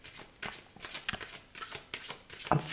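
Tarot cards are shuffled by hand, a series of soft riffling, flicking bursts in an uneven rhythm, close and fairly quiet.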